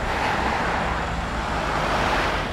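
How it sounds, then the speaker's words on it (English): Steady, relentless road traffic of cars and heavier vehicles rumbles loudly and continuously near the roadside, with no talking over it. "Traffic relentless."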